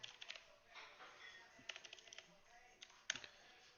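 Quiet, uneven clatter of keys being typed on a computer keyboard while entering form text, in short bursts with brief pauses and a few sharper clicks.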